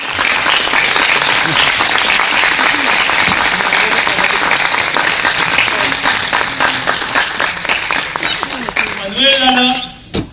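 Loud, sustained audience applause fills a theatre during a Marathi stage comedy play, steady and dense throughout before a voice briefly cuts in at the very end.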